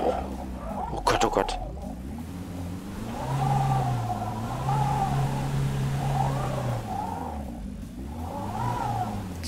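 A car engine in the Autobahnpolizei-Simulator 2 driving game hums and rises steadily in pitch as it revs and accelerates, with someone speaking over it.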